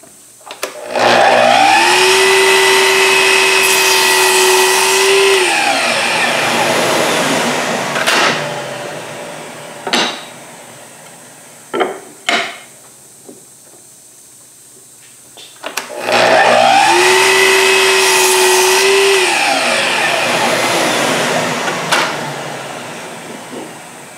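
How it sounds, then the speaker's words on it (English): A compound miter saw cuts the ends off a wooden dovetail test piece, its motor whining loudly through two long cuts, each rising and sliding down in pitch as the blade runs through the wood and spins down, with quieter clunks between. "I'm going to actually take this over to the compound miter saw and cut that"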